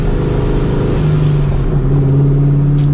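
A supercharged New Edge Mustang GT with long-tube headers pulls hard under acceleration, its loud, steady engine drone rising in pitch from inside the car with no talking.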